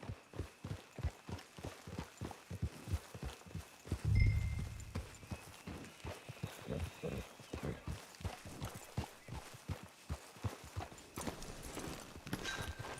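Horse hooves clip-clop at a steady walking rhythm in a Red Dead Redemption II game scene, close and even, with a louder low thump near the middle and faint ambient tones behind.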